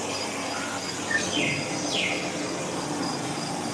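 Faint bird chirps and calls ring out briefly over a steady indoor background hum in an indoor rainforest exhibit, with no talking.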